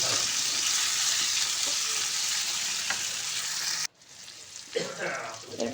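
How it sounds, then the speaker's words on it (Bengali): Chopped medium tomato dropped into hot oil in a pan for a Bengali bata fish curry, giving a steady loud sizzle and fry that cuts off abruptly, followed by quieter frying and stirring. "এরপর আমি এখানে দিয়ে দেবো একটা মাঝারি সাইজের টমেটো কুচি।"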